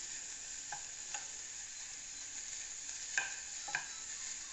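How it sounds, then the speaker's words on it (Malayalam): Half a cup of grated coconut fries lightly in hot oil with a steady, close sizzle, broken by a few soft scrapes of stirring. "ഇതിലേക്കൊരു 1/2 കപ്പ് തേങ്ങയാണ് എടുത്തിട്ടുള്ളത്. അതൊന്ന് ചെറുതായിട്ടൊന്ന് വറുത്തെടുക്കുക."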